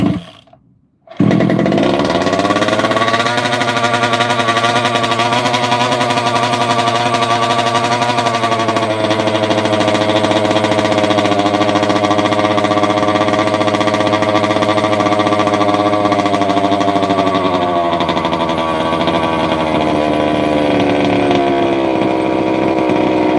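A rebuilt 32cc two-stroke engine fires after a brief silence and settles into a loud, steady buzzing run close by, its pitch dipping slightly toward the end, with no voices over it.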